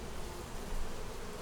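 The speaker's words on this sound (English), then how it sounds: "the bees are out flying" Honeybees fly around their hive on a sunny day above 60 degrees, a dense, even buzzing close to the microphone with no voices over it.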